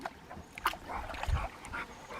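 A dog splashing and lapping as it plays and drinks in cool water outdoors, giving irregular close splashes and slurps with a faint whimper, no talking.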